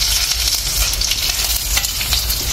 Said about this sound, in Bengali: এবার দেওয়া হচ্ছে রসুন কুচি দেওয়া হচ্ছে